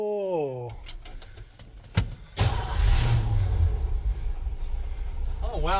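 A 1968 Ford F100 pickup cranks a few times, then catches and settles into a steady running idle that carries to the end, with people talking briefly at the start and finish.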